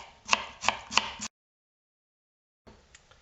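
A knife chopping onions on a board, three evenly spaced sharp close thuds, then a silent gap before a softer burst of cutting resumes.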